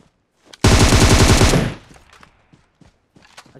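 Automatic gunfire from a new weapon in the video game PUBG Mobile: a loud, continuous burst of rapid shots lasting about a second, then abruptly quiet apart from faint scattered clicks.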